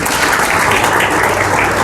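A loud, dense burst of audience applause for a guest at a Spanish-language church ministry gathering, steady and close throughout.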